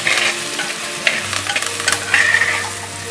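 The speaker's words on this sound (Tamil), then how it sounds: "தக்காளி நல்லா வதங்கிடுச்சு." Tomatoes sauté in a clay pot for fish curry, a soft continuous sizzle broken by scraping stirs and spoon knocks against the pot, with a low hum underneath.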